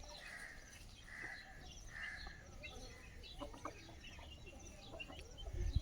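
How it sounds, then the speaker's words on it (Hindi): Desi chickens and roosters in a cage cluck and call in repeated bursts, moderately close, over a faint rustling background with no speech. "ये देखो आप हमारे मुर्गे"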